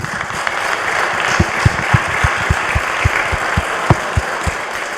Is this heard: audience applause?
yes